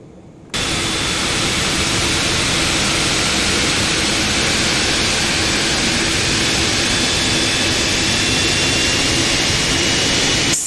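A Boeing 747-8 jet engine auto start in the X-Plane 12 flight simulator: after a brief quiet moment a loud, steady, broadband roar with a faint whine comes in abruptly and holds constant without speech.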